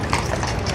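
Horse hooves clip-clop on pavement at Horse Guards during a ceremonial guard setting, a quick loud close clatter of steps amid busy outdoor background noise.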